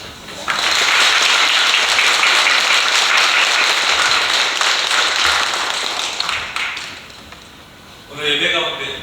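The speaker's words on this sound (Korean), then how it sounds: "우리 다시 한번 우리 다윗 성가들에게 격려의 박수 부탁드립니다." A church congregation at a Sunday anniversary service gives the choir a long, dense round of applause that holds steady for several seconds, then fades as a voice speaks at the end.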